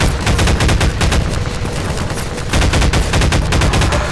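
Rapid automatic gunfire from weapons in Half-Life 2, loud and close, with dense rattling bursts that run nearly continuously and barely pause.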